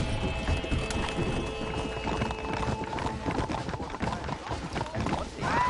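Rapid hoofbeats clatter in a steady galloping rhythm amid a dense, noisy backdrop, loud and continuous throughout.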